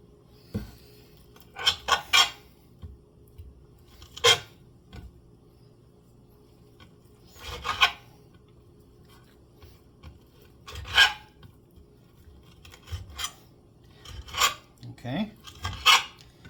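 Knife slicing food on a plate: scattered scraping and rasping strokes, several short bursts spaced across the stretch, close and fairly loud against a quiet background, with no talking.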